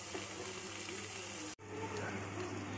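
Eggplant with onion and tomato sautés in oil, giving a soft, steady sizzle, briefly cut off for an instant midway before the gentle frying resumes.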